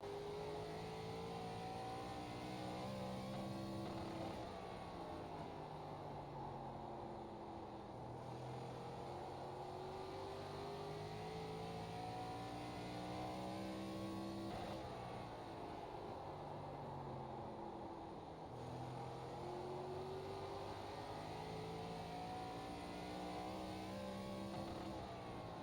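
An ARCA stock car engine in the iRacing sim drones steadily through a full lap at Lakeland Speedway, its harmonic pitch sweeping up and down through the corners at constant high volume, with no talking.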